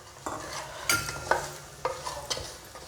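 Rava semolina being stirred in a hot pan for vegetable pongal: soft scraping strokes of a spoon with a faint sizzle, several close stirs spaced about half a second apart.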